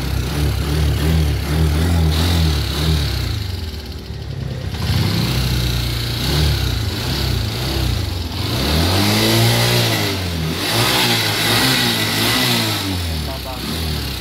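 A Honda TMX125 motorcycle engine starts and revs repeatedly, rising and falling in pitch, loud and close, with people talking over it at times.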